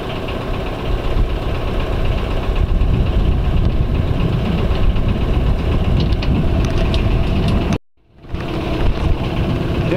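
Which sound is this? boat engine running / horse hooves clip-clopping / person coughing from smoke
boat engine running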